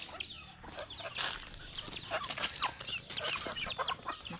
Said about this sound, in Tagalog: Kaya naginoktok man yung isa ka manok.